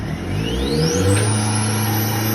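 Car engine with the throttle pressed fully down while an idle-up control box holds the revs back: a steady close engine drone with a thin whine rising in pitch over a couple of seconds.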